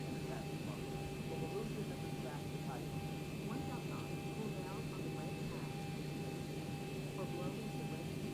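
An airliner taxis in a flight simulator game with the Zibo mod, giving a constant droning engine hum with steady whining tones throughout, while faint voices murmur underneath.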